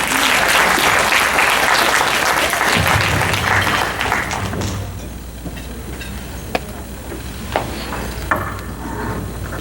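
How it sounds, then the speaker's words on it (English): Gala audience gives a loud round of applause that swells densely for about four seconds, then thins into scattered claps over a low room hum. "if we can just give her one more round of applause"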